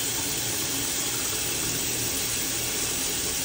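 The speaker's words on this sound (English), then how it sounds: "If I run the water," Steady broadband rush of tap water pouring into a clogging sink, continuous and close, with no voices.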